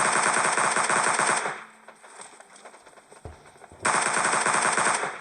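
Automatic gunfire in PUBG Mobile Lite, loud rapid bursts that start, pause for a couple of seconds while quieter game sounds continue, then resume at full intensity.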